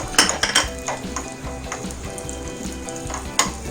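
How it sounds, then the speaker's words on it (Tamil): Finely chopped cashew nuts sizzle and fry steadily in a pan, with brisk stirring clatters and occasional sharp metallic scrapes of a utensil against the pan, close and fairly loud. "முந்திரி பருப்பை நல்லா வறுத்தாச்சு"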